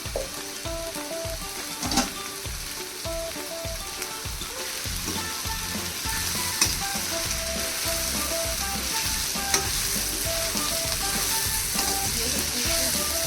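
Avalakki uppitu sizzles and crackles in a hot pan while being stirred after salt goes in, producing dense frying noise broken by steady, rhythmic scraping strokes close to the microphone, with no voices.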